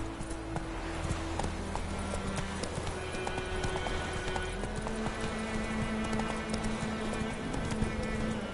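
Roach the horse gallops in The Witcher 3, steady rhythmic hoof clip-clops close by under game music, with a brief shout.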